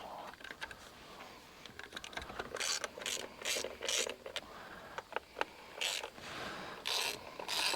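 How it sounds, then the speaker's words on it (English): Half-inch wrench working bolts on a 120 hp Mercruiser engine in a 1967 Starcraft Holiday boat, quiet irregular clicking and ratcheting taps with metallic scrapes, close up and alone. "Looks like a 1/2-inch wrench will take care of this business."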